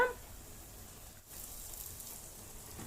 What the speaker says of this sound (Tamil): இப்போ இதை நல்லா வதக்கி எடுத்துடலாம். இதோட பச்சை வாசனை போகும் வர வதக்கி எடுத்துக்கோங்க.